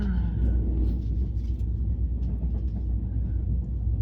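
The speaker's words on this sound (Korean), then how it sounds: "앞에 기차 지나간다 건이야." A train rumbles past close by with a steady, heavy low-frequency roar that holds through the whole stretch, heard at a Seoul-area outing with a young child.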